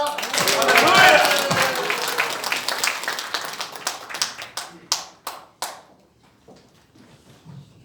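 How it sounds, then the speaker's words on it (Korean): An audience claps to welcome a pastor onto the stage at a Korean national prayer meeting marking the June 25 war anniversary. The applause swells loudly, then thins into scattered, fading claps. Some speech runs beneath it. "강상 목사님 심장 박수로 모시겠습니다"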